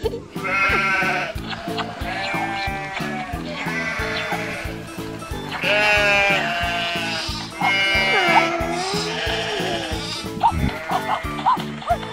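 Sheep bleat repeatedly in loud, wavering cries over a steady rhythmic musical beat, several calls overlapping throughout.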